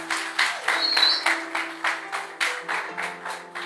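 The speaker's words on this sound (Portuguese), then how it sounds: "Podemos dar uma salva de palmas para Jesus pela vida dele?" A crowd claps in steady unison rhythm, about three claps per second, over a faint sustained musical hum, with no speech.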